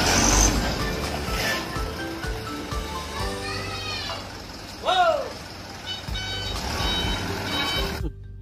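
A toy tanker truck plays electronic reversing beeps and tonal chimes, looping through a busy melodic pattern with a brighter chirp midway before cutting off abruptly.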